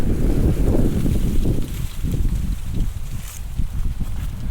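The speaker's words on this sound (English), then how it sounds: "Oh man, it got windy." Strong wind blows steadily across an open area beside a parked 2021 Dodge Durango SRT Hellcat, a loud rumbling roar buffeting the microphone without a break.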